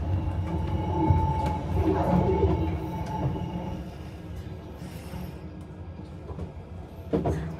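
Swiss train running near Grindelwald, a steady low rumble and rattle of the rail carriage heard from inside, loud at first and then easing slightly, with a brief clunk near the end.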